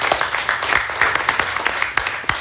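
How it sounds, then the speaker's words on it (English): An audience at a university board committee meeting claps in a sustained round of applause, individual sharp claps standing out over a steady patter. "And please give them a round of applause."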